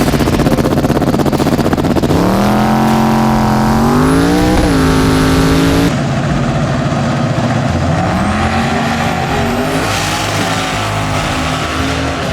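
Pro mod drag racing cars scream down the strip, engines loud and revving through rising gear pulls, with a second run following after a brief break.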